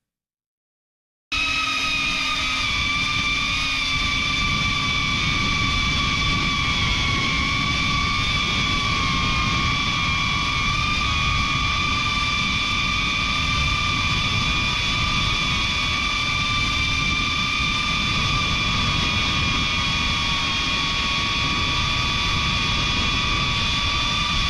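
A drone hovers steadily overhead, its constant high-pitched whine of several layered tones droning unbroken and loud throughout.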